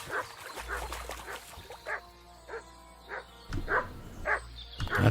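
A dog barks repeatedly in the medieval video game Kingdom Come: Deliverance II, a string of short, evenly spaced woofs that grow louder and more insistent toward the end.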